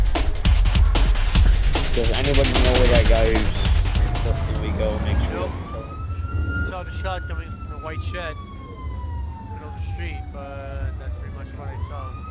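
A police siren in a GTA role-play game sweeps up and down, loud and wavering, after a noisy, busy stretch with voices talking over the scene.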